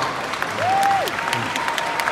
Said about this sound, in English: Thought that deserves a clap.